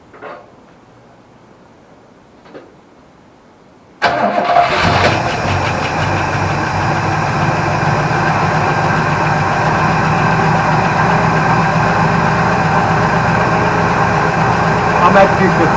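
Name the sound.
Holden HQ ute engine starting and idling after 7 years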